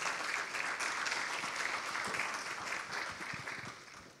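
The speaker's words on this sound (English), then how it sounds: "A big round of applause." An audience at a stage talk applauds, a dense sustained clapping that holds steady, then gradually thins out.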